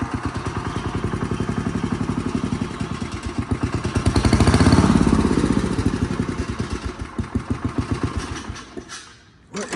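A 1968 Massey-Ferguson MF10 garden tractor's small engine runs close by with a rapid, uneven putter that surges louder in the middle, then settles into a loping, hunting beat before briefly cutting out near the end.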